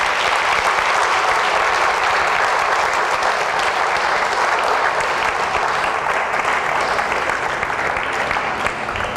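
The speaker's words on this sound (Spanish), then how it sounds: "¿Puedes darle una ofrenda de palmas al Rey?" A church congregation claps steadily and loudly throughout, a dense wash of hands with no break, offered as praise during a service.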